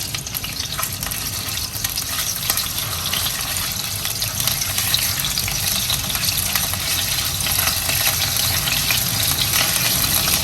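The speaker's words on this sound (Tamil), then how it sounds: "சிக்கனுடைய கொழுப்பை, அந்த கொழுப்பை இந்த ஆயில போட்டு வறுக்கணும்." Chicken fat frying in oil, a dense, loud, unbroken sizzle with bubbling crackle that stays steady from start to finish, no voices.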